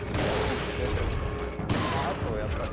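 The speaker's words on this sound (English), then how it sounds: "we also worked very hard on the sounds for the guns" Gunfire from the video game Resident Evil 4: dense, rapid bursts of shots overlapping into a loud continuous volley, with a brief break before another salvo, close and sharp.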